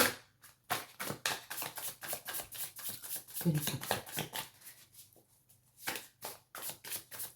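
Tarot cards being shuffled by hand, a run of quick, irregular papery riffles and slaps close by, with some speech mixed in.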